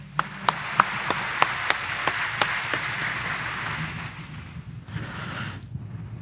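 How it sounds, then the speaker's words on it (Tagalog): A church congregation at Sunday Mass in Quiapo claps in a steady burst of applause that swells and thins out, with rhythmic sharp claps standing out at first, heard outdoors with wind noise. "Kulang pa ang ating palakpak at pasasalamat sa ginawa ni Jesus Nazareno para sa atin"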